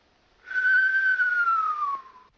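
A single clear whistled tone, alone and close, imitating asthmatic wheezing. It swells in, holds steady for about a second and a half, then slides slightly downward and fades.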